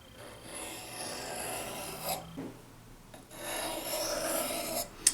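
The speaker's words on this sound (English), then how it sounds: "you want to run the blade up the stone at that angle an even number of times per side" Steel kitchen knife blade drawn along a whetstone in repeated rasping strokes, two long scraping passes separated by a brief pause, close and fairly loud with a sharp ring at the end.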